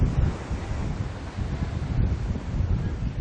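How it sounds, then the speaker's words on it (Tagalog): Strong coastal wind and rough waves at a shoreline in Tanza, Cavite, a loud gusty roar of wind buffeting the microphone over the rushing surf, steady throughout. "mas malakas na ang alon at ang hangin dito sa bahaging ito ng Amaya 5 sa Tanza, Cavite"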